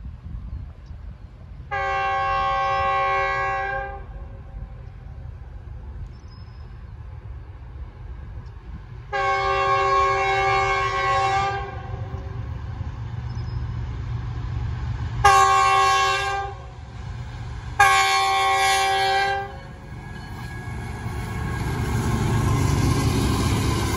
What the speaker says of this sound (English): Test train.